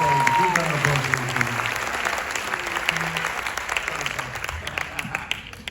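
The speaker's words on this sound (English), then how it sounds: "A big round of applause for you." Applause from the audience at a live tribute concert, a steady dense wash of clapping that runs the whole stretch, with a voice briefly heard over it near the start.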